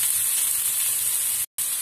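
Onions sautéing in a pan for ragi kuzhi paniyaram give a steady, bright sizzling hiss that runs evenly, broken once by a split-second gap of silence, with no voices.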